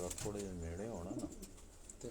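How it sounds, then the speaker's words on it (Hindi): Pigeons cooing nearby in a loft or yard: a few soft, rolling coos rise and fall over about two seconds, fairly close but quiet, with faint clicks and background noise. "सारे कबूतर बड़े हैं"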